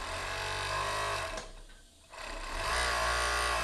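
Sewing machine running steadily while stitching the hem of a robe, with a brief pause in the middle before the motor picks up again, loud and close with no talk.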